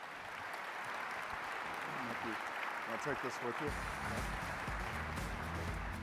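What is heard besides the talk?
audience applause for the panelists at a keynote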